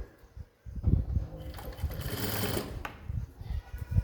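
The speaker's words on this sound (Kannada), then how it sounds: "ಇದಕ್ಕೆ ನಾನು ಸ್ವಲ್ಪ ದೊಡ್ಡ ಹೊಲಿಗೆ ಹಾಕ್ತೀನಿ, ಆಮೇಲೆ ಹೆಮ್ಮಿಂಗ್ ಮಾಡೋಕ್ಕೆ ನಮಗೆ ಈಸಿ ಆಗುತ್ತೆ" A sewing machine stitching a blouse runs in short, close bursts, with a whirring motor and rapid needle clatter that starts, pauses and restarts.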